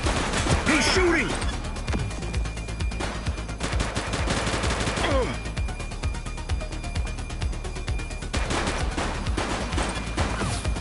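Gunfire in the police game The Precinct, with repeated shots and bursts of automatic fire spread across a busy mix, alongside shouted voices and radio chatter.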